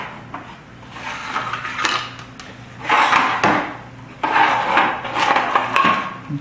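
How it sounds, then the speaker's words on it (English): Drawer on a PERFECT G17 PRO base slides open and shut with hollow wooden scrapes and knocks, several bursts of rubbing and clatter close by, no talking. "You got a nice drawer there to come out to put things in."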